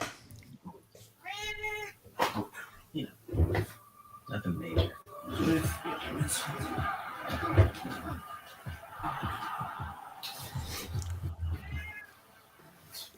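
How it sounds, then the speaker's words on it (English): A house cat meows a few times, short cries scattered among casual talk and laughter during a rugby watch-along at home. "Don't know if that's his cat."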